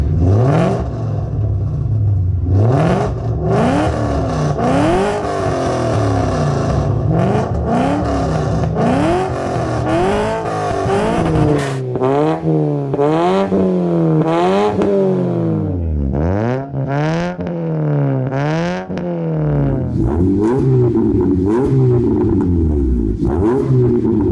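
A car engine revs repeatedly, pitch climbing and dropping in quick rising sweeps, loud and close with a rough exhaust burble between blips.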